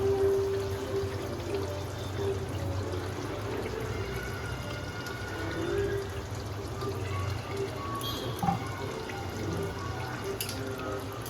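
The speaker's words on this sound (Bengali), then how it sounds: "এবারে আমি 2 চিপি এর মধ্যে কেওড়া জল দিয়ে দিচ্ছি।" Kewra water poured into a pot of chicken pulao with nearly cooked meat, a soft continuous watery pour and drip over a low steady cooking hiss, close and moderately quiet, with no talking.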